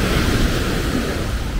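Sea waves at Patong beach in Phuket, near a roped-off boat parking zone, roll in as a steady, loud wash of surf with wind buffeting the microphone throughout, no voices over it.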